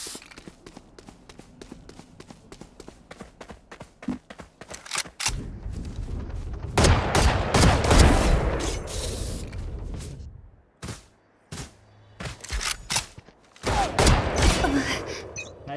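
Rapid bursts of gunfire in a Valorant pro match between TE and DRX, sharp shots coming in quick clusters with short pauses and some mechanical clicks.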